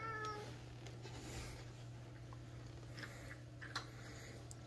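Pet cats at their evening feeding give a few faint meows, with soft chewing sounds, quiet and close over a steady low electrical hum.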